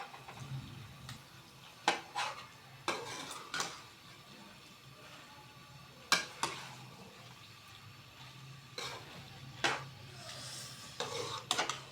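A spoon scrapes and clinks against a metal pot while food is mixed at home, with irregular light knocks and scrapes over a quiet background.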